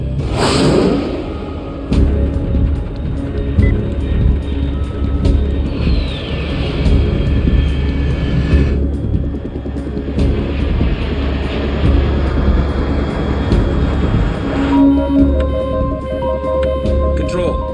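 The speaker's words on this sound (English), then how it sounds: "Unidentified aircraft detected." A fast jet passes in Metal Gear Solid Snake Eater, a whooshing flyover sweeping through a dense game soundscape of rumble, music and tones, with a synthetic voice speaking over parts of it.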